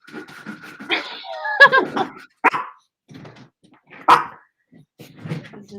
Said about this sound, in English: I'll let this dog in.